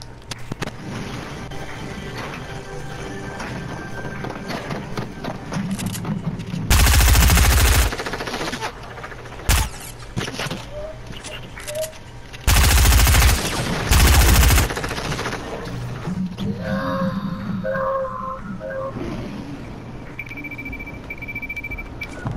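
Video game gunfire with loud bursts of rapid automatic fire in several long volleys, plus single sharp shots and clicks between them over a steady background of game sound.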